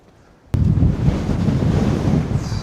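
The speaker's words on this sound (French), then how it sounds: "je ne vais pas rester longtemps parce que ce vent me fatigue" Sudden loud wind buffeting on the microphone kicks in after a brief quiet moment, then roars steadily with low rumbling gusts.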